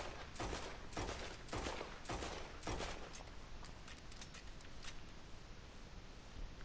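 Mauser pistol firing aimed shots in Red Dead Redemption 2: a quick burst of sharp cracks early on, then a slower, evenly spaced run of shots that grows fainter and trails into echoing reverberation.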